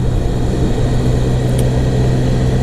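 A Triumph Sprint GT 1050 motorcycle engine fitted with a new Scorpion Serket exhaust holds a loud, steady, continuous low rumble throughout, close by with no voices.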